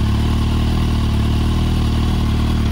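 Kawasaki Z750 motorcycle engine running steadily during a throttle body sync, a loud, close, continuous low mechanical drone with a constant pulsing rumble and no voices.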